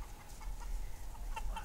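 Easter egger hens and other backyard chickens clucking softly nearby, a few short low clucks scattered over a quiet outdoor background.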